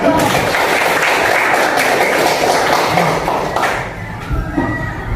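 Audience at a school discussion session for SMA 1 Blimbing breaks into applause, a dense, steady wash of clapping that fills the whole stretch and tapers slightly near the end.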